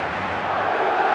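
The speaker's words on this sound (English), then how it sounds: "Crowd appreciates good football all round there." A stadium crowd in the football video game eFootball mobile 2022 roars in a steady, broad wash of cheering that swells slightly toward the end.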